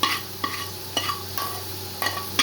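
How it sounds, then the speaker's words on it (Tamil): Tempered onions poured into a pot of sambar, a crackling sizzle with several sharp bursts and stirring clicks spread over a steady frying hiss, close and fairly quiet, with no talk. "சாம்பாரில் வந்து போட்டுக்கலாம் தாளித்து வெங்காயத்தை"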